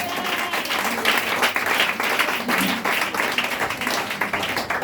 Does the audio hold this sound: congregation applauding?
yes